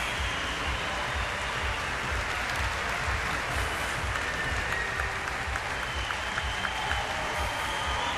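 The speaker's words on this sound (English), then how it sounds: "They're getting a standing ovation in here" A velodrome crowd at a track cycling world championship gives a standing ovation after a race, a dense sustained wash of clapping that fills the whole stretch at an even, loud level.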